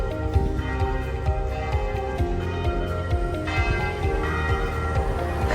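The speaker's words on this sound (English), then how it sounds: "Oh, I love that sound. The church bell." Church bells ring out at noon in Prague's Old Town, a continuous rhythmic peal of overlapping strikes that fills the street, loud and sustained with no one speaking over it.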